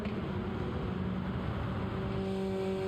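A race car drives on steadily in Gran Turismo 7 during a mini challenge race, its engine a close, continuous drone with a held tone shifting near the end, no talk over it.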